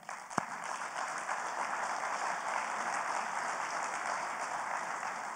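A conference audience at a 2018 infrastructure keynote applauds steadily, an even wash of many hands clapping, moderately distant, with no talk over it.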